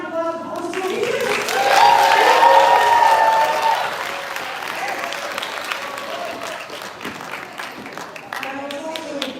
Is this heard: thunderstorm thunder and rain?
no